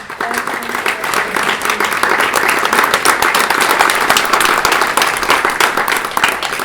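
Audience applause at the opening of a business conference, dense sustained clapping from a large crowd that swells and holds steady for several seconds.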